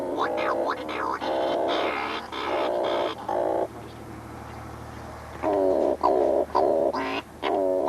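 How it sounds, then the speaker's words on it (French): Cory's shearwaters calling at night on the Portuguese coast, loud wailing, nasal cries in repeated bursts with quieter gaps between them. "C'est le puffin cendré"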